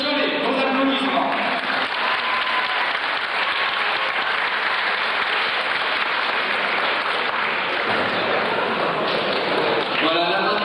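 Sustained applause from an audience at a 1993 national event in Cholet, a dense, even roar of clapping lasting the whole stretch, with a few voices faintly audible at the start and end.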